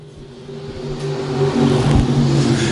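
Race cars on a dirt speedway roar past during a sprint, pure stock and modified main event, engines revving and building in a loud, steady drone that swells toward the end.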